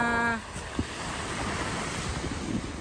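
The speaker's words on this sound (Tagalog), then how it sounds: "Lakas ng alon." Strong waves and wind roar continuously along Manila Bay, the surge of waves rising and falling, after a brief tonal hum at the very start.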